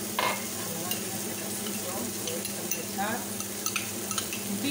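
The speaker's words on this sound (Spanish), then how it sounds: "Está pochada ya la cebolla, lo voy a aprovechar y echar el tomate frito." Softened onion and fried tomato sizzle in a pan while a spoon stirs, with a steady close frying hiss under scattered scraping and clinks of the utensil against the pan.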